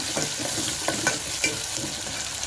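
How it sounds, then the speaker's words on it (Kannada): Onions and green chilies sizzle in hot oil in a pan while a spoon stirs them, giving a steady frying hiss broken by soft scraping strokes, close and continuous. "ಈಗ ಸ್ವಲ್ಪ ಸ್ಪೂನಲ್ಲಿ ತಿರುವಂದ್ರಿ"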